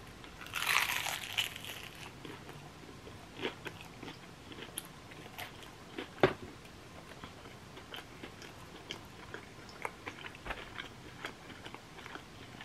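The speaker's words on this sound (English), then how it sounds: "I want you guys to hear the crunch." Crunchy fried chicken being bitten and chewed close up: a sharp crackling bite near the start, then a run of crisp crunches and softer chewing, quiet with no talk.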